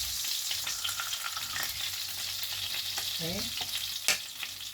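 Food frying in a pan gives a steady close hiss with light stirring scrapes, a brief spoken word near the end over the sizzle.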